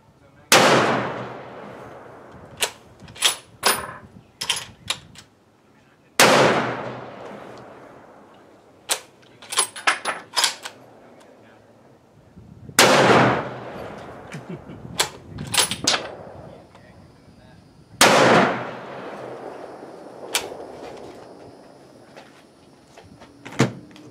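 A Mossberg AT rifle fired outdoors, four loud sharp shots spaced evenly apart, each followed by a decaying echo and scattered metallic clicks of the action between shots.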